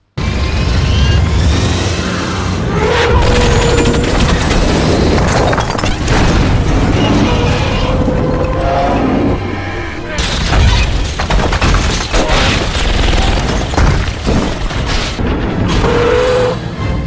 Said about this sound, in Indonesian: pesawat tempur itu yang meledak